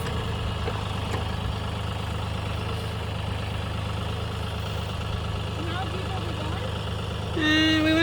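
A Kioti tractor engine drones steadily with a mower attached, a low continuous rumble throughout, while a person talks over it and the pitch shifts near the end.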